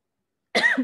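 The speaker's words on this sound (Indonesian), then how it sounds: "Ini batuk dulu" A single short cough after a moment of silence, close and fairly loud.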